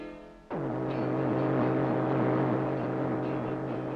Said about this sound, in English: This is the sound of communists trying to silence Radio Free Europe.